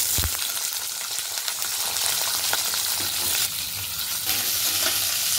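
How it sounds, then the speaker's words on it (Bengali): Onion and capsicum frying in a kadai, a steady close broadband sizzle with scattered stirring scrapes and clicks running throughout, no voices. "পেঁয়াজ আর ক্যাপসিকামকে একটু ভালো করে ভেজে নিই"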